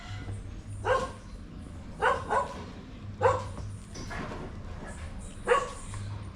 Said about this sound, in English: The bad dog, they don't necessarily chain.